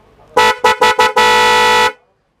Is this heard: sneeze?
no